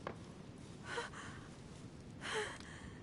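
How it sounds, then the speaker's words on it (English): Faint, quiet breaths from a woman lying collapsed, with two soft gasping inhalations spaced apart over a low background hiss. "Her breathing is becoming stable"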